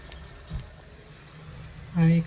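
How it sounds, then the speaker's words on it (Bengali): Small pitha cakes drop into hot oil in a pan, and a sudden loud bubbling sizzle bursts up near the end after quieter kitchen noise. "তেলটা গরম হয়েছে, সেজন্য আমি পিঠাগুলো দিয়ে দিচ্ছি।"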